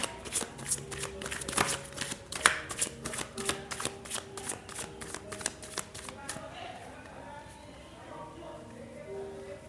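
Tarot cards are shuffled by hand in a quick run of crisp riffling snaps for about six seconds, then stop, leaving a quiet room with faint low background sound.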